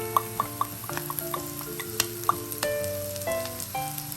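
Egg frying in oil for sinangag garlic fried rice crackles steadily up close, with scraping stirring strokes and clinks of a utensil against the pan, no voices.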